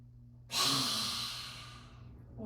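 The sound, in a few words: deep breath in during yoga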